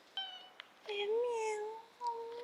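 A cat meows on a street, a few short calls followed by a longer drawn-out wavering meow and another brief call, close and fairly clear, with some quiet background noise and people talking nearby.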